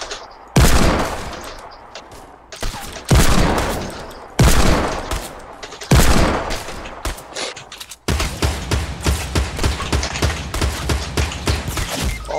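Loud gunshots in the video game Fortnite: four heavy, echoing blasts spaced a couple of seconds apart, then a rapid burst of automatic fire, close and dominant with no talking.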